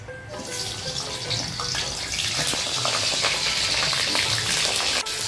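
Pieces of pointed gourd go into hot oil for a Bengali dish, and a loud, steady sizzle swells up after a brief quiet start and continues without a break, with no talking.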